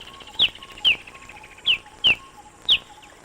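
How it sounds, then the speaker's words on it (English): Birds call among flowering aloes in the mountainous southwest of Kruger Park, including nectar-feeding sunbirds: five short, sharp chirps spaced about half a second apart, clear and fairly close over a steady faint background tone. "The aloes of the mountainous region of the southwest are a wonder in themselves, and also attract many bird species, such as the nectar-loving scarlet-chested sunbird."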